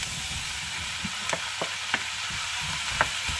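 Aubergine is added to softened onions frying in a pan for ratatouille, producing an even sizzle broken by a few sharp clicks and scrapes of stirring.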